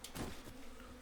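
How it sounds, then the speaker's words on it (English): Bees in Breath of the Wild give a faint, brief buzzing drone lasting about a second, quiet and alone. "Those some nasty bees."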